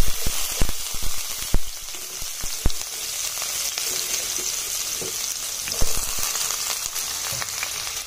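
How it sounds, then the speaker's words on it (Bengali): Chopped onions frying in hot oil for an egg curry give a steady, close sizzle, with scattered sharp pops and crackles throughout and no voices. "পেঁয়াজগুলো আমি গোল্ডেন ব্রাউন করে ভেজে নেব"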